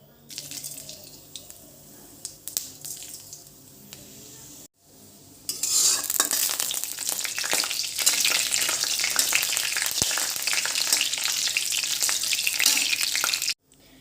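Dried red chillies and panch phoron dropped into hot oil for a raw mango chutney, starting with faint clinks, then a sudden loud, steady crackling sizzle that carries on for several seconds before stopping abruptly.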